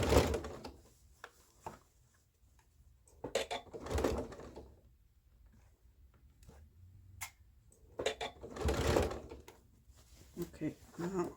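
A sewing machine stay-stitches the neck and crisscross overlap of a garment in several short whirring runs, separated by quieter pauses with small handling clicks.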